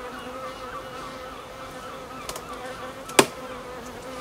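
Bees buzz softly around a honey super during a harvest, a faint steady hum with a brief sharp crack near the end.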